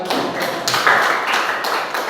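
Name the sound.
class applause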